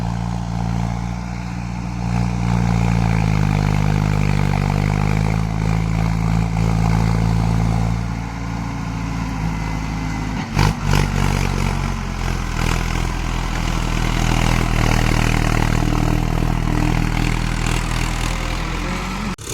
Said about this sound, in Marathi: हे बघा हे ट्रॅक्टर कसं लेवलिंग करते, त्यांना लेवल करणं चालू आहे